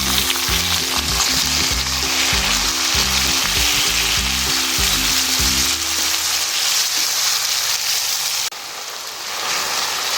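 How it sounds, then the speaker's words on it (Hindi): Loud, steady sizzling of tomatoes, chilies and garlic frying in a hot pan, with a rhythmic low clatter of stirring in the first half that then stops. "डाल देंगे इसमें और अच्छी तरह इसको भून लेंगे"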